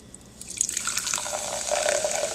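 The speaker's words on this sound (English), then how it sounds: "You can hear it fizzing, and you can see the bubbles right there." Carbonated water from a SodaStream fizzes in a clear glass, a close, soft crackle of popping bubbles that builds and keeps hissing throughout.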